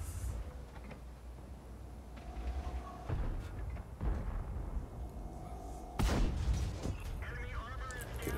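Tank cannon shots in the World of Tanks video game boom out amid steady engine and battle rumble, with one sharp, loud blast near the end.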